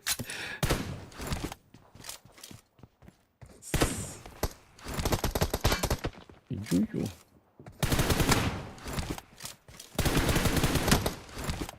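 Gunfire crackles in a shooting video game in bursts of rapid shots separated by short gaps. Players talk excitedly between and over the shots.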